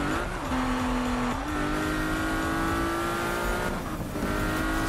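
A race car engine in the video game Need for Speed (2015) revs steadily and loudly, its pitch sliding between gear shifts, with tires squealing as it drifts through corners.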